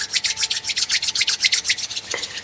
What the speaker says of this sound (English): just rubbing the hands together